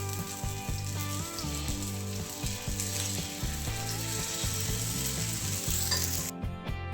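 A mung dal pancake cooks on a pan over medium gas, hissing with a steady, close sizzle that runs almost to the end before cutting off sharply; nobody talks.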